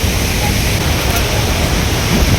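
A close, unbroken wash of rushing water from Athirappilly waterfall fills the air, loud and even from start to finish.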